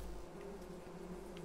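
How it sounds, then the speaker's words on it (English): Bees buzz steadily around hives on a farm in Farming Simulator 22, a continuous low insect drone heard alone at moderate, even level. "Bees cost me 10 grand."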